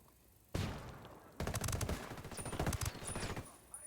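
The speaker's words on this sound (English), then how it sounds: "Lobbing a flashbang" A flashbang grenade goes off in a tactical shooter game: a sharp bang, then a dense, loud stretch of rapid gunfire-like bursts, with a thin high ringing tone near the end.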